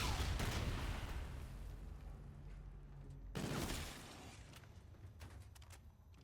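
Grenade explosions in a video game: a heavy blast that fades into a long rumbling tail, then a second close boom about three seconds later with crackling debris after it, and no speech.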